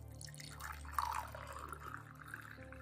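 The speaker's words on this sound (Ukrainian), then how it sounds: "Висипаєте і заливаєте кип'яченою водою." Boiled water pours faintly into a container of baking soda, a soft trickling and splashing over a low background hum.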